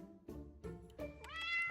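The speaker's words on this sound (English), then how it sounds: "The cats were surprised to see you." Cats meow in a video game, in surprise as they leap away and hide. Several short, close meows arrive in quick succession and end in a longer, rising cry, with no talk over them.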